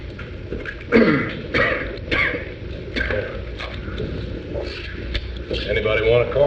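Men in a jury room cough and clear their throats several times in short bursts over a steady murmur of room noise and low voices.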